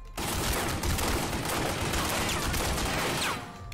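Sustained automatic gunfire from a Tommy gun in The Godfather video game rattles on loud and dense for several seconds, the rapid shots blurring into a continuous roar.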